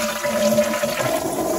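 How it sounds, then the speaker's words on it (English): A flush toilet in an off-grid home: a loud, steady rush of swirling water filling the whole short clip, close and with no voices. "yes, it flushes"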